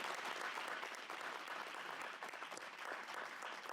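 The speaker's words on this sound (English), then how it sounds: "Let's give a big round of applause" Audience applause at a Black men's mental health conference in Dayton, Ohio, a brief, even burst of many hands clapping close and loud with no voices over it.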